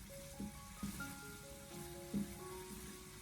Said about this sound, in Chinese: 下切好的五花肉，开小火给它翻炒一下，先把五花肉给它煸炒出多余的油脂